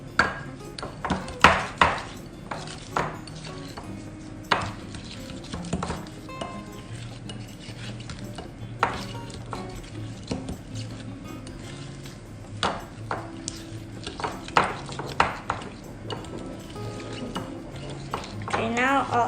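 Lemon shortbread ingredients being mixed in a bowl, with repeated scraping and sharp clinks of a utensil against the bowl in irregular bursts, while a person speaks in between.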